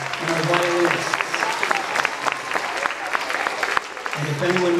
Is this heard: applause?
yes